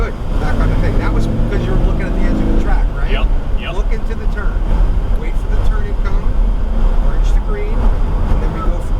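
A Lamborghini Huracan engine drones steadily as the car accelerates on a race track, heard from inside the cabin, a constant loud rumble with an instructor talking over it.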